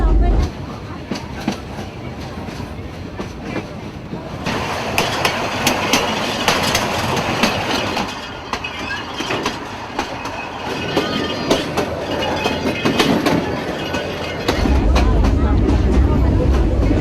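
A German-built 1969 railcar trailer wagon rolls along worn, war-damaged track toward Battambang, Cambodia, giving a loud, continuous rattling clatter with rhythmic clicks and rumble, and a voice speaks over it.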